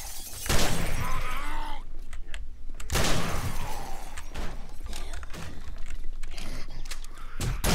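Glass ore being mined in the survival game 7 Days to Die, with two sharp shattering, breaking impacts a couple of seconds apart, each trailing into crunchy debris, loud and close with no talk.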